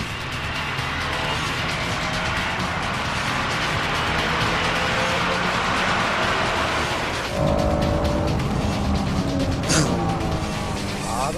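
A Honda NSX-R race car rushes past a rival on a slippery track hairpin, a loud continuous engine roar that surges sharply about two-thirds through, with tyre squeal and engine pitch shifting as it pulls ahead.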